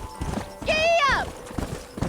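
Horse hooves clip-clop at a steady trot in the video game Red Dead Redemption, with a sharp whinny breaking in near the middle of the short stretch.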